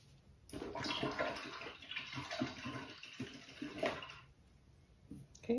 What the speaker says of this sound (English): Okay, just washing my brush out.